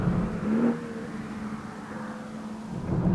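BMW 335i F30 sports sedan accelerating hard: a near engine note climbs in pitch, eases briefly, then swells again in a smooth continuous pull.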